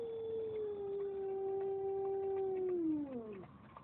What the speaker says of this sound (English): Where's that siren?